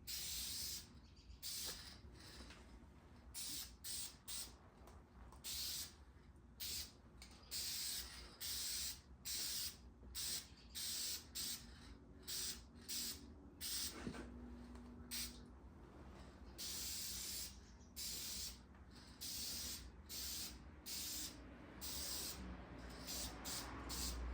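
Repeated hissing bursts of an aerosol spray paint can onto a small-block Chevy 383 stroker engine block, short and long blasts in an irregular rhythm, close and steady throughout with no voices.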